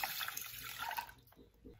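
Water poured into a pan for Brazilian rice pudding alongside rice, sugar, cinnamon stick, cloves and milk, a soft steady splashing pour that tapers off near the end, close and quiet with no talk.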